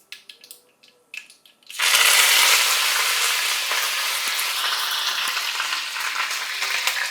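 Curry leaves hit hot oil with already-popped mustard seeds and burst into a loud, sustained crackling sizzle after a few soft handling knocks, spattering steadily and staying close.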